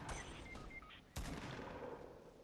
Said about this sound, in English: Oh no, someone's trying to shoot me.